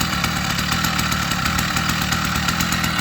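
A new 80cc engine on a motorised bike runs steadily just after its first start-up, a loud, buzzy two-stroke drone close by with a fast, even putter throughout.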